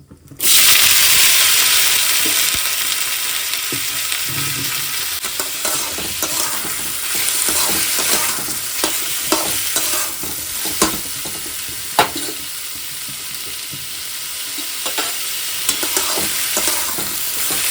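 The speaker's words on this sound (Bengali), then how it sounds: "চলো তবে আলুগুলো দিয়ে দিই এই যে দেখো কড়াইয়ে তেল দিয়ে দিয়েছি একটু জিরা লঙ্কাও দিয়ে দিয়েছি" Potatoes hit hot oil in a wok already seasoned with cumin and chili, bursting into a loud, steady sizzle, with utensil scrapes and stirring clatter through the frying.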